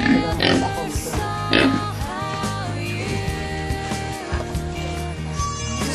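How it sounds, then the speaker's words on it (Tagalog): Grower pigs grunt and oink in short bursts, close by, over a steady low hum and some faint talking in the background. "Ito pa rin ang palakihing baboy."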